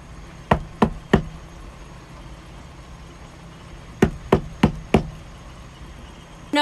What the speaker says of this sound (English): she suddenly heard someone knocking on the outside of her van